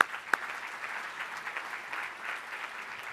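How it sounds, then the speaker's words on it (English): Applause at a Bakersfield medical awards ceremony, a steady moderate patter of clapping from the audience that starts with one sharp clap and continues evenly without voices over it. "Please give them a round of applause"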